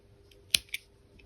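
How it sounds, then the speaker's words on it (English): Scissors snip through crochet yarn with two quick, close, crisp clicks, the second softer than the first, in an otherwise quiet room. "chain 1 and cut your yarn."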